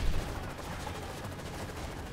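Dense, rapid bursts of gunfire crackle continuously with a muffled, game-like quality from Call of Duty: Modern Warfare 3, no voices over it.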